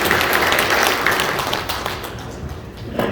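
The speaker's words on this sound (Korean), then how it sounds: "여러분 뜨거운 박수로 보내주시길 부탁드립니다" Warm applause fills a hall at a veterans' association guest introduction in Okcheon, a dense, steady wash of many hands clapping for several seconds before it begins to thin.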